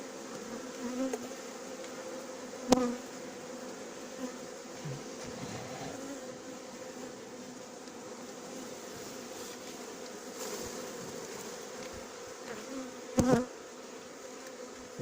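A large swarm of roughly 15,000 to 20,000 honeybees being hived hums with a steady, dense buzz throughout, with a couple of brief louder bumps close by.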